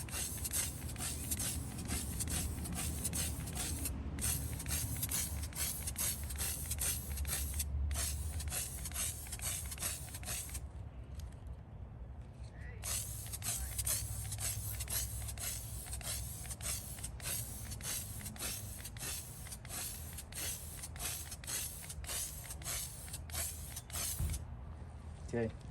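Rust-Oleum spray paint applied as a second coat on parts of a 1955 Westinghouse fan: a continuous close hiss with short breaks, accompanied by rubbing and faint handling noises.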